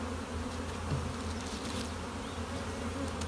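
A close, unbroken drone of many honey bees rises from an opened hive where the workers are drawing comb, humming at a constant level with small flickers of individual wingbeats.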